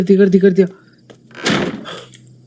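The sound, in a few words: door in a horror video game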